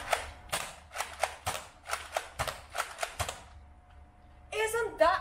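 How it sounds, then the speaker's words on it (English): A Nerf Mega pump-action shotgun is fired repeatedly at a wall, a run of sharp close snaps and thuds at a quick uneven rhythm, followed by a brief voice at the end. "firing this gun to the wall"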